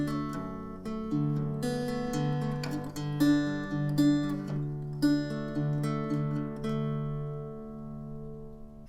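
Guitar playing the interlude of a song, close and clear, with sustained low notes under a run of picked higher notes, steady and unaccompanied, no voices.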